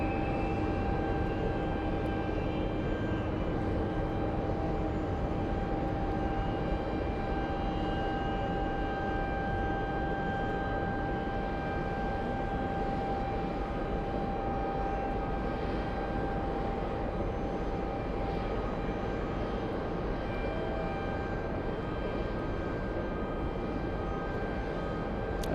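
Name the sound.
Kalitta Boeing 777 cargo jet on final approach at JFK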